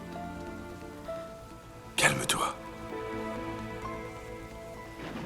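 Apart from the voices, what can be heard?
rain falling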